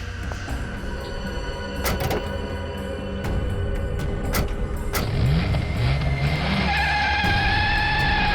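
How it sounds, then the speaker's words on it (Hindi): Car engine accelerating hard with a rising, sweeping whine over a loud continuous roar, with sharp knocks and clatter early on, close and dense throughout. "अबे गाड़ी भगा, तेज चला।"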